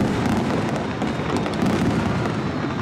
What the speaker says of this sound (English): and a firework display